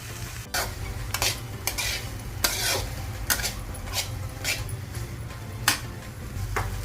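Vegetables stir-frying in a pan for ragi vegetable parathas and cutlets, a steady sizzle broken by repeated sharp scrapes and clatters of a utensil against the pan, close and fairly loud.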